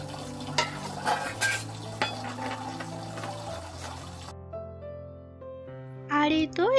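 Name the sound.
scrubbing and washing dishes and pots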